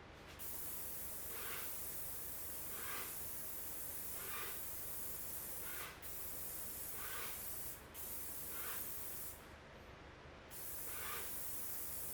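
A paint sprayer applies Sherwin-Williams Gallery Series paint to a dresser, giving a steady, loud hiss that runs almost continuously, with brief pauses and short breaks between passes.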